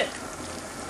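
Nilgai pepper steak with vegetables and fish sauce bubbling in a pan, a brief close hiss of simmering and sizzling with no voices.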